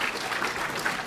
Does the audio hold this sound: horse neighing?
no